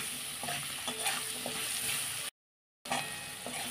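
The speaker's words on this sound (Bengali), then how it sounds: "পরিমাণ মতো হলুদ দিয়ে দিলাম, দিয়ে আলুটা একটুখানি ভাজবো" Potato frying in a pan with turmeric gives a soft, continuous sizzle broken by light stirring scrapes, with a brief full silence partway through.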